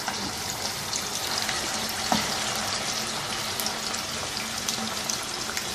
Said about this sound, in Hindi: आलू फ्राई कर लेंगे